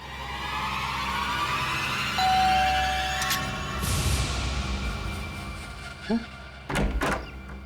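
A door being opened in an indoor setting: a sliding scrape with a clunk and then sharp knocks and thuds near the end, heard against room noise and a steady tone.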